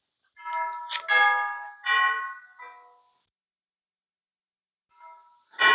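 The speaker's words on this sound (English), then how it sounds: "I do not know where that bell is coming from" A bell rings indoors in a few bright, resonant strikes that fade, then pauses before ringing again, with no talking over it.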